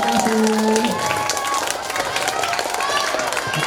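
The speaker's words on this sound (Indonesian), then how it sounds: "tepuk tangan buat Brenda" A group at a natural disaster and fire drill applauds and cheers for Brenda, a busy wash of clapping and crowd voices with someone talking over it.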